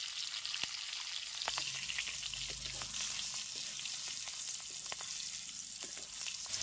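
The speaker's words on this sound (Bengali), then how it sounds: "তেলের মধ্যে দিয়ে দেবো গোটা জিরে, কাঁচা লঙ্কা, তেজপাতা, সামান্য পরিমাণ হলুদ।" Whole cumin, green chili, bay leaf and a little turmeric sizzle in hot oil in a kadai for winter vegetable khichuri, a steady hiss with a few sharp pops and light stirring, no talk.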